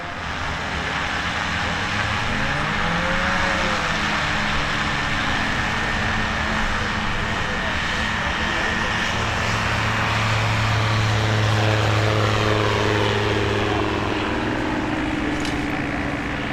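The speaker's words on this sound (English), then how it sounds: "Here's Gary Schmidt in his Super Stol, just aircraft. Rotax powered." A Rotax-powered Just Aircraft Super STOL light plane at an evening STOL competition, a loud continuous engine drone with pitch shifts as it passes, amid steady open-air crowd and field noise.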